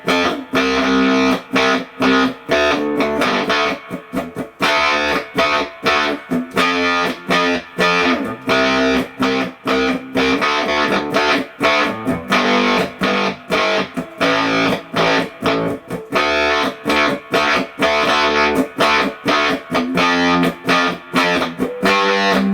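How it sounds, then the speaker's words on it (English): Electric guitar driven through a RAW Squid distortion pedal prototype, a thick, rough, sustained crunch of chords and riffs played continuously, loud and close with no talking. "RAW Squid Distortion tone."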